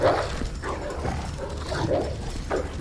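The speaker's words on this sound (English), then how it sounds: "I don't like all these dogs." Dogs in Resident Evil 2 Remake bark and yip in several short, loud bursts spaced about a second apart over faint game background noise.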